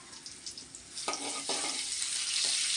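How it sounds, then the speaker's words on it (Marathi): Sliced onion and cumin seeds fry in a hot pan, giving a close, bright sizzle that builds and thickens over a few seconds, with a couple of soft stirring knocks. "हे कांदा कांदा गोल्डन होऊन तर फ्राय करून घेऊ आपण आता"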